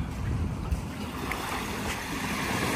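Sea waves washing along Dolomite Beach on a calm, clear day at low tide, a steady broadband wash of water and surf with light wind, continuous and fairly close, with no talking.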